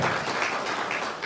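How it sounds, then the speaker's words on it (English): An audience at a residents' meeting applauds to welcome new residents, with brief, steady, dense clapping from a room full of people. "we're going to give them a round of applause as a welcoming"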